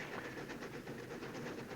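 A train running on rails, heard as a steady, dense rumble with faint rhythmic clatter and hiss throughout, moderately close and continuous with no talk.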